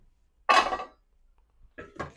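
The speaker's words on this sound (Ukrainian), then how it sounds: "Для початку ми беремо каструльку" A saucepan picked up and handled in a home kitchen while cooking beef tongue: one sharp metallic clank followed after a pause by two softer clinks, close and alone.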